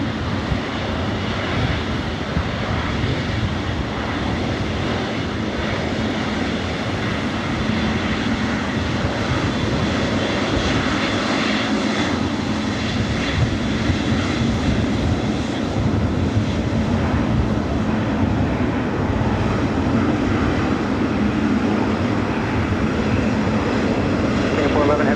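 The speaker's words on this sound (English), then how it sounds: "Up next, Singapore 777-300ER heading to Tokyo Narita in the Star Alliance livery." A Singapore Airlines Boeing 777-300ER in Star Alliance livery takes off at LAX. Its engines give a loud, sustained roar that holds steady and grows slightly, with voices talking faintly underneath.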